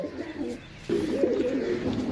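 A pigeon at a pigeon seller's loft coos in low, soft murmuring phrases that swell after a brief lull, continuous and close with faint background noise.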